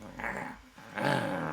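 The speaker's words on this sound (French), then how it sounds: "Un grognement me fait sortir de mes pensées." A dog growls in two low, rumbling stretches broken by a short pause, the second burst louder and rougher, close by with no talking.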